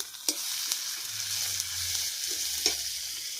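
Garlic paste added to fried onions in a hot pan, a steady sizzle with a few sharp spatula clicks and a low rumble partway through.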